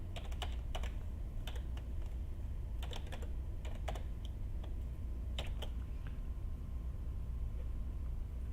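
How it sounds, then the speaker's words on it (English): Someone types on a computer keyboard in irregular bursts of quick, light key clicks, fairly close and quiet, over a constant low background hum. "I can't type without looking at the stupid keyboard"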